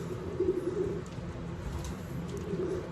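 Young racing pigeons coo softly in their loft, with low, quiet burbling calls that come in two short spells, one early and one near the end, and no voices over them.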